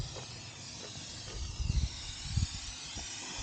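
Steam hisses continuously from an overheated car radiator near a 5,000-metre mountain pass, with louder rumbling surges in the middle of the clip and no talk.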